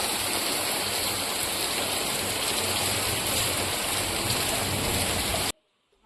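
Steady, dense rain pours outdoors near a veranda where potted seedlings are being planted, a loud continuous hiss with no pauses, then cutting off abruptly near the end.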